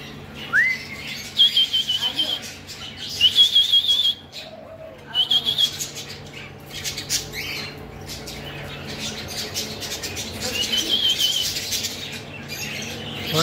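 Parrots in a zoo aviary squawk and whistle, several loud shrill calls repeating in bursts during the first few seconds, then quieter scattered chirps amid background murmur.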